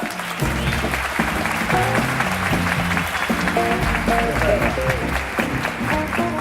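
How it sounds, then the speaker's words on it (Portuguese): Conference audience at a customer experience summit applauding a speaker's introduction, steady clapping under loud stage music with a strong beat. "Muitas palmas, Paulo Miranda!"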